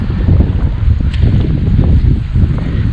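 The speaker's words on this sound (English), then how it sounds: "Getting windy," Wind gusting over the Altamaha River during a bass fishing trip, a steady, loud rumbling buffet against the microphone with continuous low roar and no speech.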